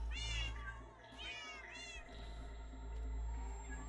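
Cats meowing inside the Minecraft game Animal Farm, two or three clear rising meows in quick succession, close and fairly loud over a low steady hum.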